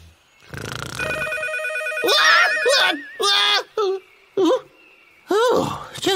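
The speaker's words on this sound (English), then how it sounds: "Just the phone." A cartoon telephone rings in bursts of wavering electronic tones, loud and close, with short pauses between the rings and a voice over part of it.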